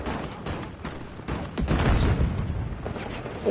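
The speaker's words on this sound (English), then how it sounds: "Grenade flash lancée." A flash grenade in a Call of Duty match goes off as a dull, broad burst that swells in the middle of the clip amid steady game noise and scattered battlefield sounds.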